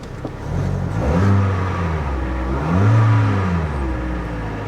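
A 1970 Cadillac Coupe DeVille engine, running low on gas after sitting, turns over and catches, then revs up and falls back twice, with a loud, close, rising and falling rumble.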